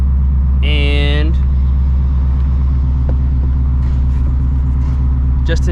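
A Ford Shelby GT350 driving in traffic in Texas makes a loud, constant low engine drone and rumble from inside the cabin, with a short burst of voice early on over the steady drone.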